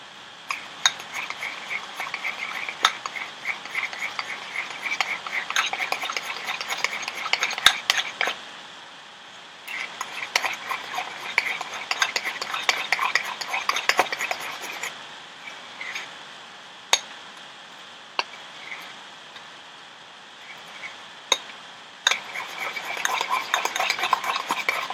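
A batch of henna paste being mixed in a bowl: a long run of wet, sticky stirring with frequent clicks and clinks of a utensil against the container. The scraping pulses irregularly and stays close, with no voices.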